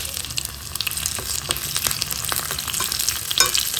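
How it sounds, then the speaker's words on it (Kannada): Mustard seeds, urad dal, asafoetida, byadagi chilli and curry leaves sizzle and crackle in hot oil for tempering, with dense, steady frying hiss broken by frequent sharp pops throughout, close and fairly loud, no voices. "ಸಾಸಿವೆ ಎಲ್ಲ ಒಳ್ಳೆ ಚಟಪಟ ಅಂತ ಸಿಡಿತಾ ಇದೆ"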